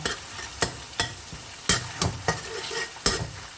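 Chili paste stir-fried in hot oil for a snapper curry, with repeated scraping stirs of a spatula against the pan over a steady background sizzle, close and fairly loud.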